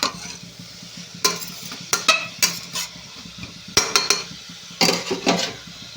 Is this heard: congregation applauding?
no